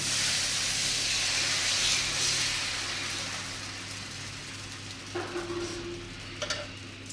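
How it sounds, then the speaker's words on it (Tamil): Dosa batter poured onto a hot stone griddle gives a steady, fairly loud sizzling hiss that eases off a little over time, with a few faint clicks near the end. "தோசை மாவு ஆல்ரெடி நான் கழிக்க வச்சுருக்கேன் அதை வந்து கல்லில் ஊற்றிக்கலாம்"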